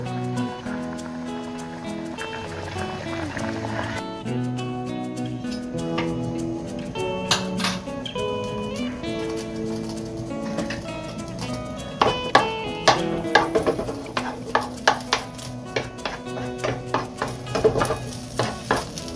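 Mung beans bubble and sizzle in a boiling pot with steady stirring and scraping, then sharper clinks of utensils against metal toward the end.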